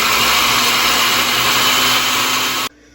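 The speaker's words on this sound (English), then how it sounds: "I'm going to cover my blender and blend these together" A blender whirs loud and steady for several seconds, mixing avocado, cacao powder and vanilla for a keto mousse, then stops abruptly.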